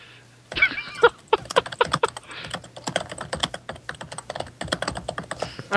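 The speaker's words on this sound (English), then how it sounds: "That is a lot of ferocious typing." Heavy, fast typing on a computer keyboard: rapid clattering keystrokes in bursts, close and loud, running almost continuously over a faint low hum.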